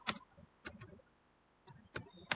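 Code goes in on a computer keyboard as a few soft, sparse keystrokes in small clusters, close and quiet, with short gaps between them.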